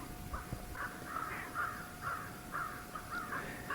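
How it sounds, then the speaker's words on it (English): Repeated harsh caws from crows and ravens, about eight calls in quick rhythmic succession, moderately distant over faint background noise. "it looks like the crows and the ravens are having a spat"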